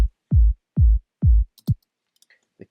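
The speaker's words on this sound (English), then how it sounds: "The main sub of the kick comes from a different sample" Sub kick drum sample from electronic dance music production, four deep, booming low thumps in an even pulse, followed by a shorter fifth hit and faint clicks.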